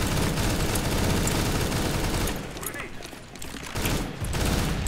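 Rapid bursts of automatic gunfire crackle in Counter-Strike: Global Offensive, dense at first, briefly easing, then resuming loudly near the end.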